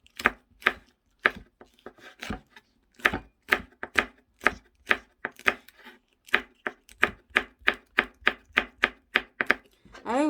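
Chili peppers sliced into rounds on a cutting board, a close series of crisp knife chops in quick irregular bursts, about thirty strokes with short pauses, no talking.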